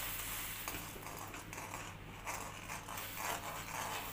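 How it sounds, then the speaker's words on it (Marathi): A spoon or hand mixes rice flour, added little by little, into boiling milk in a pot, giving soft, quiet scraping and stirring with faint bubbling and no talking. "असं हाताने किंवा चमच्याने असं थोडं थोडं टाकून हे मिक्स करून घ्यायचं आहे"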